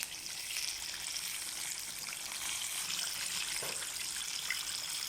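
Zinger burger chicken deep-fries in hot oil on a low-to-medium flame, giving a steady, even bubbling sizzle that holds fairly constant and soft, heard close with no voices.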